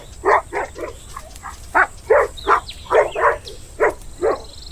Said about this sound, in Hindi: तभी भेड़िया उसे देखकर गुर्राने लगता है।